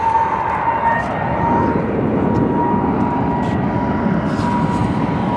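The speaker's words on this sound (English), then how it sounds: "we have a A320neo by Frontier headed to Dallas" A Frontier Airbus A320neo jet headed to Dallas gives off a steady, fairly loud engine rumble with a faint high whine, heard alone throughout with a few brief clicks.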